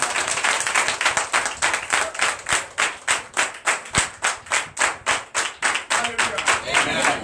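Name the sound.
church congregation clapping in acclamation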